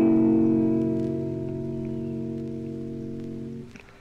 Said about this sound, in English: The G7th is a much easier chord to play.